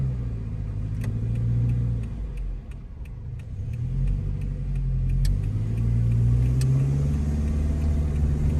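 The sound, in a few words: car with manual transmission pulling off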